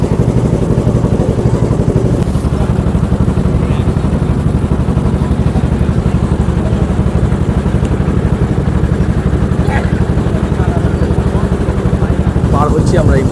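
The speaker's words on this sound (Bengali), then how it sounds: "তো আমাদের ট্রলার ছেড়ে দিয়েছে।" A trawler boat's engine chugs loudly and steadily while crossing the Bhagirathi river, a close, continuous throbbing drone with faint clatter and occasional voices mixed in.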